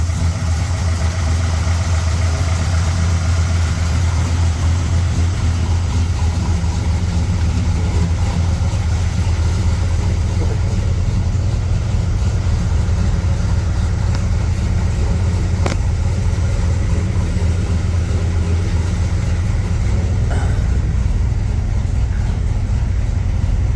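A 1965 Chevrolet Impala V8 engine idles steadily and a bit rich with a deep, rumbling low burble, close and continuous, with no one talking.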